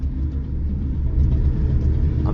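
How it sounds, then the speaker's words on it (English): Steady, continuous road traffic rumble in Lima, Peru, with car engines droning low and close, no voices. "traffic noises piss you off"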